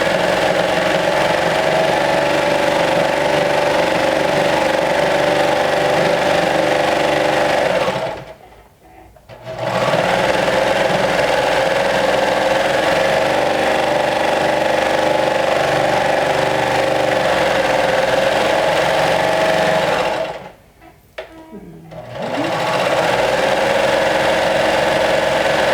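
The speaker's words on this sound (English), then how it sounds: "Let's move to the serger and finish the raw edges." A serger overlocks raw fabric edges on a lumberjack shirt, a steady loud mechanical whir running continuously with two brief pauses as the fabric is repositioned.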